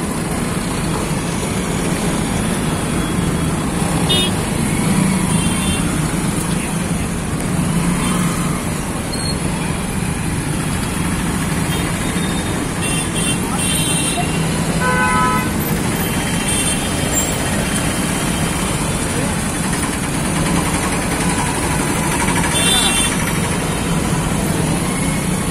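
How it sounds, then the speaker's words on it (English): Road traffic in a busy old market district of Surat, with a steady wash of idling engines and passing vehicles close by and occasional brief horn-like tones poking through the constant rumble. "Getting stuck in traffic as usual."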